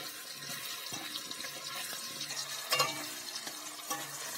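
Potatoes fry in a pan with a constant sizzle and occasional spatula scrapes and knocks. One brief louder clatter stands out partway through.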